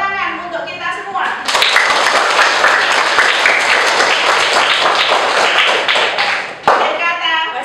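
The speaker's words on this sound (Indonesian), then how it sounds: "Tepuk tangan untuk kita semua." A classroom full of primary school children bursts into loud, dense applause that runs for several seconds, with a teacher's voice heard just before it begins and again as it fades.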